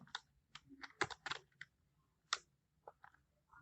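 Computer keyboard keys clicked in short, uneven bursts of typing, close and fairly quiet, with brief pauses between clusters of keystrokes.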